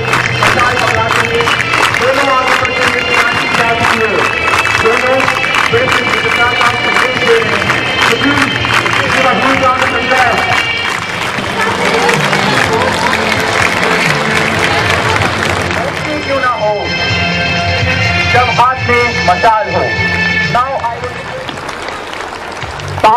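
Crowd applause and cheering at an Army Public School annual sports day in Udhampur during a torch relay, sustained clapping under loud announcer commentary and music, thinning out toward the end.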